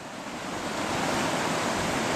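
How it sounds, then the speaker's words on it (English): River water runs over rocks in a continuous, hissing wash that rises slightly and then holds steady, with no voices. "I mean, literally just trickling, like this, basically."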